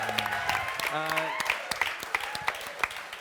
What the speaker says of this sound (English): A round of applause for the Penguins for coming out tonight.